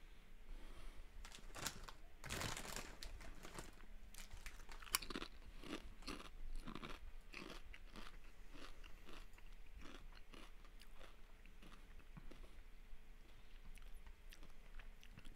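Close, crisp crunching and chewing in ASMR style, repeated bites and munches continuing steadily at steady volume with no talk.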